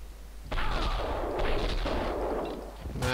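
Gunfire in the video game Max Payne 2, a burst of shots opening into a loud, sustained roar of firing and echo that fades slightly before a sharp new crack at the very end.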